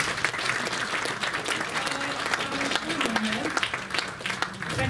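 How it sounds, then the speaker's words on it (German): An audience at a hypnosis and NLP congress claps for the volunteers in sustained, moderately loud applause. A speaking voice comes through faintly over the clapping. "Ein Applaus für alle"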